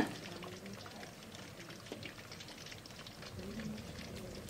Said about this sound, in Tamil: இப்போ தண்ணி வந்து நல்லா கொதிக்குது